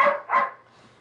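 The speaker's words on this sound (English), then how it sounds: "Do you hear a dog barking?" A dog gives two quick, loud barks close by, then fades to quiet.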